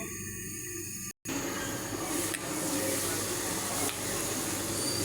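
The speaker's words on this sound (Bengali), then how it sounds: "এটা 5 থেকে 6 মিনিট শুটকিটা আমি ভালো করে কষিয়ে নেব।" Dried fish (shutki) frying under a lid in a covered pan, a steady close hiss and sizzle that runs throughout, broken by one very brief cut of silence, with no talking.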